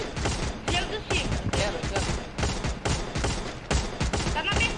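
Rapid bursts of gunfire ring out in a Free Fire-style battle royale match, loud repeated volleys in quick succession while players talk over the shooting.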